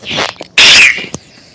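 A single loud, sharp sneeze bursts out close by in the middle of a casual podcast conversation, preceded by a short breathy intake and followed by quiet.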